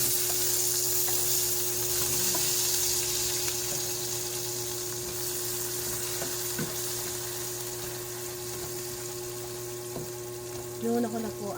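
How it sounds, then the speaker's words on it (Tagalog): Ginisang ampalaya (bitter gourd) sautéing in a pan, a continuous frying sizzle with occasional stirring knocks and a steady background hum throughout. "Luto po ako ng ginisang ampalaya."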